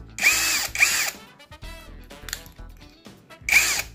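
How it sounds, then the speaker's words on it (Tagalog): INGCO brushless cordless impact drill runs in short loud bursts at the start, middle and end, with ratcheting clicks of the chuck between them as a drill bit is fitted, all close up. "Kakabit natin itong drill bit."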